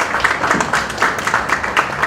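Brief applause from an audience at a panel talk on dramaturgy, with scattered claps of moderate loudness spread through a short burst and no voices heard.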